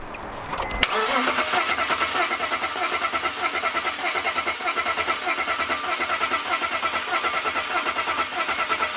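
A BMW E46 engine cranks over during a cylinder compression test: a brief click, then a steady, loud, rapid rhythmic churning from the starter motor that continues without the engine catching.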